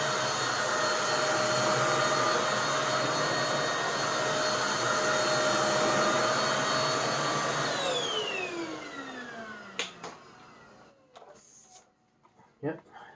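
A MOOSOO XL-618A vacuum cleaner whines loudly on high speed with a steady, tonal motor hum, then spins down with a falling pitch and stops, followed by a few scattered clunks.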